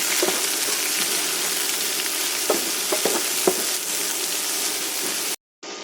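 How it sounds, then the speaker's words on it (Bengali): Minced garlic, naga chilies and green chilies fry with salt in a pan of oil for red amaranth greens. A steady, fairly loud sizzle runs throughout with a few soft stirring taps, then cuts out briefly near the end. "রসুন কুচি, নাগামরিচ, কাঁচামরিচ, কয়েকটা কাঁচামরিচ সবগুলো এখন দিয়ে দেব। তার সাথে দিয়ে দেবো স্বাদ মতন লবণ। সবগুলো ভালোভাবে ভেজে নেব।"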